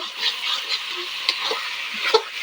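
Spice paste for a home-style chicken and potato curry fries and sizzles in a pan while a spoon scrapes and stirs it, with a steady close hiss broken by several sharp scraping clacks.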